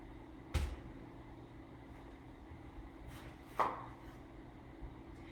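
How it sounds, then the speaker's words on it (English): A knife slices watermelon into thick slices in a kitchen, with two distinct soft thunks a few seconds apart and a fainter third, close but quiet over low room noise. "I'm cutting these slices, about an inch thick, maybe a little more"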